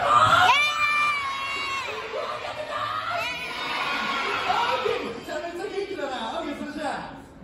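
Live audience at the Universal Monster Live Rock and Roll Show at Universal Studios Japan, a loud crowd of adults and children shouting, whooping and cheering together in one sustained roar that fades toward the end.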